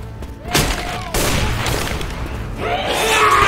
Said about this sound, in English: Taking the machine gun.